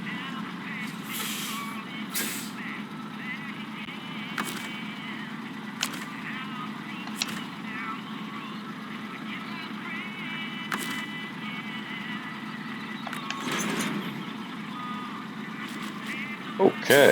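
A heavy truck in Snowrunner backs toward a trailer, its engine rumbling steadily under repeated reversing beeps and occasional air-brake hisses, with a voice talking throughout.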